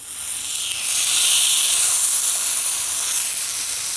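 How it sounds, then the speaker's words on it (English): Chicken breast sizzling in a dry, oil-free pan during pan broiling, a loud steady high hiss that holds without pause. "Hear that sizzle? That's exactly what you want."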